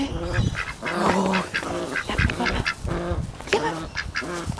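Pet ducks quack loudly and continuously close by in a morning backyard, with overlapping calls in a busy chorus.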